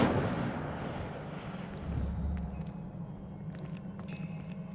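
In the video game Hogwarts Legacy, an Incendio fire spell goes off with a burst of rumbling, explosive whoosh that decays into a low crackling roar, followed by faint scattered game effects.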